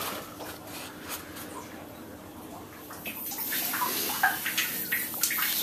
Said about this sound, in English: Alright, we've got the water drained out.